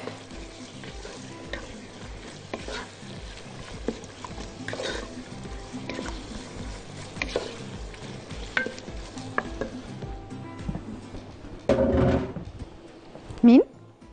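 Meat frying with onions in a pot as beef soup is cooked, a steady close sizzle with stirring scrapes throughout, louder bursts near the end, and a voice talking over it.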